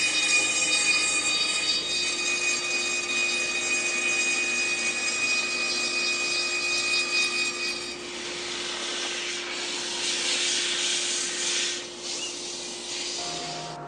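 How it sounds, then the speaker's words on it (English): A cordless drill whirs steadily, spinning a cylinder held against a table saw, with a sustained high whine and rubbing, sanding texture that roughens and shifts in the second half. "instead I'll spin it over my table saw, just with a cordless drill"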